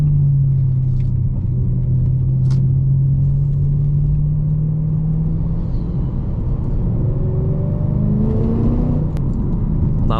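A BMW E92 M3 with its naturally aspirated engine drives steadily, a loud continuous engine drone sweeping slowly in pitch, with rumble and faint clicks, no voices.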